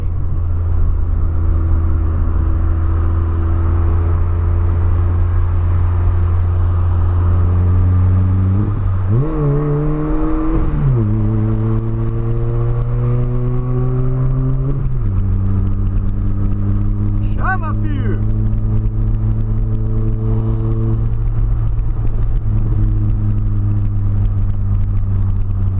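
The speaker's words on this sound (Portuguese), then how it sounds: "aquela acelerada ali, hein, pai?" Volkswagen Polo engine heard up close with a steady droning hum that climbs through several revs and gear changes, pitch rising then dropping back, loud and continuous across the whole stretch.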